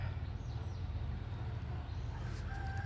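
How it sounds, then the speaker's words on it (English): Chickens and a rooster on a farm, heard faintly at a distance over a low outdoor rumble, with brief higher calls near the end. "You can hear the chickens and rooster."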